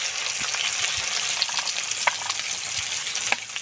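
Ground spice paste and chopped tomato frying in hot oil, a dense continuous crackling sizzle with a few soft knocks and spoon scrapes, close and steady, no voices.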